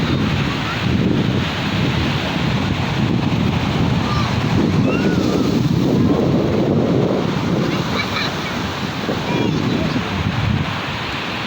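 Ocean surf rolls continuously onto Lhoknga beach in Aceh Besar, Indonesia, while wind buffets the microphone, a loud, steady wash of noise.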